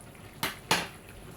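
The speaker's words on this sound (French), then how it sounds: "Et je mélange." Two quick scraping clinks of a utensil against a pot rise sharply and then fade. The pot holds a cod marinade of garlic and ginger in a vegetable sauce, and a quiet hiss sits under the clinks.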